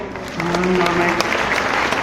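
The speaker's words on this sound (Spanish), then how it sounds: "Un aplauso, por favor." A crowd gathered in Mexico City's Zócalo plaza for a tribute to Jacinto Barrera Bassols breaks into applause after a brief voice at the start, the clapping swelling quickly and holding steady and fairly loud.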